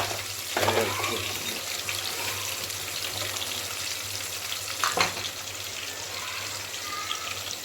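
Onions frying in a pan for mutton biryani, with a soft steady sizzle heard close and fairly quiet, two brief scraping clatters and a running-water hiss in the background, with no talking.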